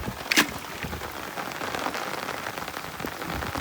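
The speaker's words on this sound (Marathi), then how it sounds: "ना पाऊस पडलाय" Steady rain falls on a night outdoors, a dense continuous hiss of drops spattering on surfaces with a few sharper crackles near the start.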